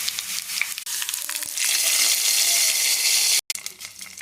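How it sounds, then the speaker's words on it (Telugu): Curry leaf tempering poured into gongura dal hisses up into a loud, steady sizzle that follows a few light clinks and stirring sounds, then cuts off abruptly and continues more faintly. "ఈ పోపుని పప్పులో వేసుకోవాలి"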